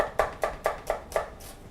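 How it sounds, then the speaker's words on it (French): A knife finely minces onions on a cutting board, six crisp evenly spaced chops in a steady rhythm, close and clear with no talk. "Je récupère mes 4 oignons et je vais les ciseler très finement"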